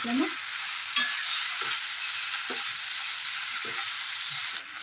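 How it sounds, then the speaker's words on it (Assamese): Boiled pasta tossed and stirred in a frying pan with seasoning, a steady bright sizzle under several soft scraping stirs at roughly one-second intervals, close, no talk. "এতিয়া মই বইল কৰি ৰাখিছিলোঁ যে পাস্তাখিনি, সেইখিনি মই ইয়াতে দি দিম। ভালকৈ মিক্স কৰি ল'ম।"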